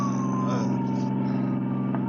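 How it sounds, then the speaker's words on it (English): An ambulance siren in an old-time radio drama wails continuously as a steady rising-and-falling tone over a low engine rumble, loud and close throughout, with no voices. "Folsey, tell the driver to stop this ambulance."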